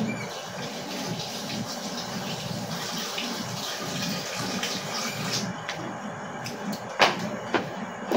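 A syringe rinsed under running tap water at a home sink: a steady, close hiss of flowing water lasting several seconds, ending with a few light clicks and knocks as the plastic is handled.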